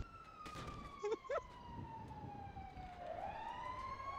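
A fire engine siren in the video game GTA 5 wails steadily through a roleplay scene, its pitch gliding slowly down and then rising again, with brief voice bursts and road noise underneath.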